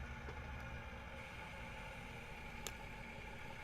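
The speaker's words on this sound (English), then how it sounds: "I like the engine sounds on this tractor" Tractor engine in Farming Simulator 17 hums at a low, steady idle-like drone, faint and unchanging, with a brief click near the end.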